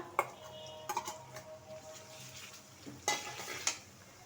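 Ginger-garlic paste going into softened onions frying for a Bangladeshi beef curry, a low quiet sizzle broken by a few sharp clinks and scrapes of a spoon against the pot, no talking.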